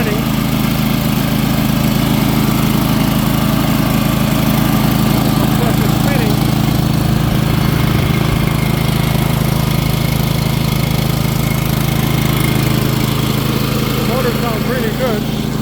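An Ingersoll-Rand air compressor runs steadily and loudly with a strong low, throbbing engine drone and continuous mechanical rattle, close by for the whole stretch; a voice speaks briefly over it.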